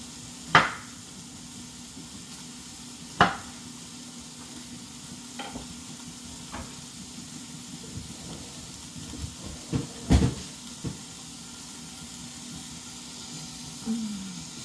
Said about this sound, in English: You can see my roast searing up, and we want to just get a nice brown on all sides of the roast.